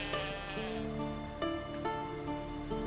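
A sheep bleats repeatedly in a wavering voice in The Witcher 3: Wild Hunt, close and clear above a steady musical background.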